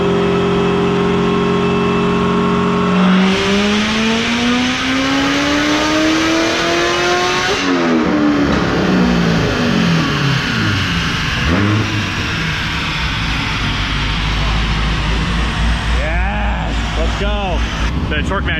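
A cammed Corvette Z06 V8 on a dyno revs loudly and climbs in pitch through several sustained pulls, with a steady engine drone underneath and brief throttle blips near the end.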